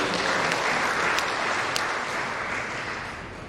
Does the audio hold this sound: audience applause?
yes